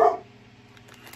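A pet dog barks once from inside a house, a single sharp close bark at the start followed by quiet household background.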